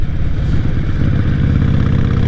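A motorcycle engine rumbles loud and close with a deep, throbbing low-end idle and slight clatter, steady throughout with no talking.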